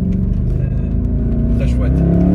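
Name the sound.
Mercedes C63 Black Series engine and exhaust sound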